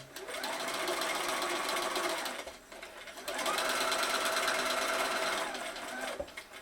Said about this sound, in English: Start stitching before the fabric, along the blue line.